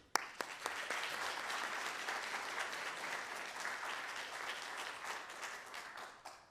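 A lecture audience applauds to welcome a speaker, steady sustained clapping from a crowd filling the room at moderate distance, opening with a few sharper individual claps and easing slightly toward the end.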